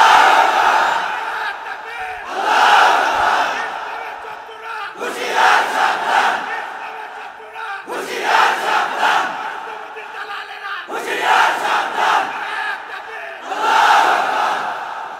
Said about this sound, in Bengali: জোরে একটা তাকবীর দেন, বলেন আল্লাহু আকবার